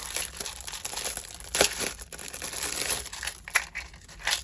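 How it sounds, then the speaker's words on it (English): A Maggie Holmes embellishment box is opened with close, continuous rustling and crinkling of paper packaging, punctuated by a few sharper crackles. "I'm gonna open the little embellishment box"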